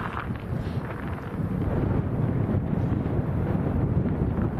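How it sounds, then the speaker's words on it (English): Strong crosswind at Lanzarote Airport roars and buffets the microphone steadily throughout, a continuous low rumble with no voices. "Today's been nice and sunny and a lot warmer, but very, very windy"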